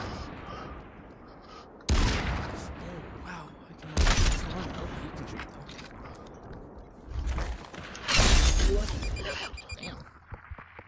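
Gunfire in the VR shooter Population One, with several loud bursts of shots landing in quick clusters over steady game ambience, close and punchy.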